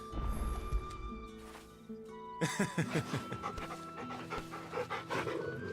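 A dog pants rapidly and steadily, close by, within the Final Fantasy XVI video game; the quick breaths carry on over faint background game sounds, growing busier partway through.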